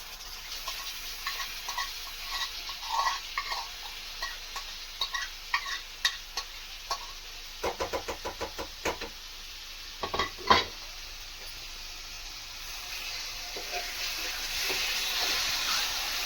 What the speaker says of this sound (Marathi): चिकन टाकल्यावरती आवाज आलेला बघितला असेल, ऐकला असेलच तुम्ही, तडक्याचा एकदम तडतडीत